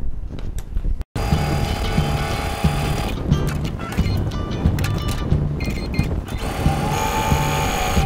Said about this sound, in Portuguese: Agora eu vou na máquina costurar para vocês, ok?